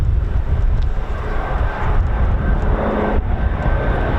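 A military aircraft with Pratt & Whitney PT6 turboprop engines passes at a USAF airbase, a loud, continuous roaring drone with a faint whine throughout.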